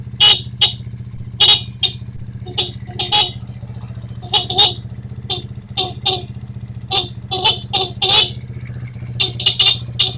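A horn on a stripped-down, batteryless motorcycle honks in repeated short bursts, loud and close, some blasts quick and clipped, others held slightly longer, over a steady low engine hum.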